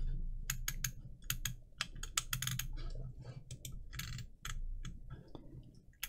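Rapid typing on a computer keyboard, with irregular bursts of sharp clicks over a low hum, close to the microphone during a Python 3D graphics coding session.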